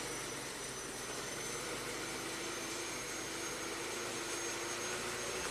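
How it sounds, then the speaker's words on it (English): A 2009 Ford Fusion engine runs with a steady, fairly loud mechanical roar and high whine, held evenly throughout as if revved and sustained, no speech. "We'll rev it up."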